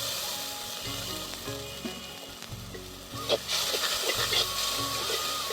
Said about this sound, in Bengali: তো এখন আমি একটু জল দিয়ে মশলাটাকে কষিয়ে নেব।